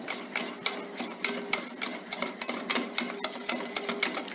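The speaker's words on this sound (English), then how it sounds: "Keep adding the oil. Continue whisking." A whisk beats oil into mayonnaise in a bowl, a quick irregular series of light clicking and tapping strokes, close and fairly quiet, with no talk.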